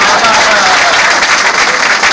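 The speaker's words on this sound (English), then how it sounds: "clap, y'all, clap." A crowd at a spoken-word performance breaks into loud, dense, continuous clapping close by, the applause steady throughout with a voice mixed in beneath it.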